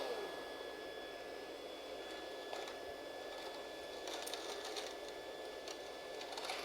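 A Rainbow vacuum cleaner runs at full power on carpet with a steady, high-pitched whine and airy rush, continuous and close, alongside faint rattling from debris being picked up.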